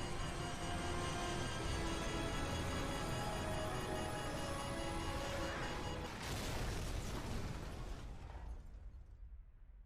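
A nuclear blast in Call of Duty 4: Modern Warfare rolls out as a dense, sustained roar and rumble with whining tones on top, staying loud for several seconds before thinning and fading away.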